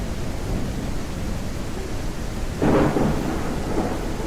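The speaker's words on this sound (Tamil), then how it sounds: "மழையாக இருக்குது" Rain and thunder from the farming video game Ranch Simulator: steady hissing rainfall throughout, broken by one low rumbling thunderclap partway through.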